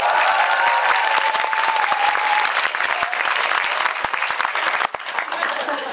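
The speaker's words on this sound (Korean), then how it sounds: "박수를 쳐드리고 싶어요" A theatre audience at a Korean film talk event for the movie Money bursts into loud, sustained applause. The thick wall of clapping stays strong throughout, with a faint voice underneath, and tapers slightly near the end.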